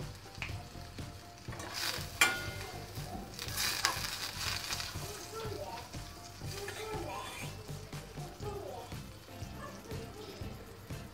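Butter melting and sizzling in a pan while cooking for yogurt manti with peppers, a soft steady frying hiss with a few utensil clinks and scrapes near the start, faint and fairly close, under quiet talk.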